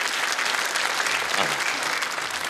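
Studio audience at a Ukrainian comedy show applauding, a dense, continuous patter of many hands clapping at close range, with a few voices faintly mixed in.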